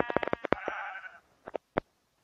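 A sheep in a survival video game bleats in a quick run of harmonic, wavering calls, then gives a few short, separate bleats after a brief pause, close and clear with no talk over it.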